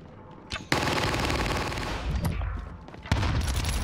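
Rapid bursts of video game gunfire, including a sniper's shots, crack out loudly in two dense stretches with a short lull between, with no talk over them.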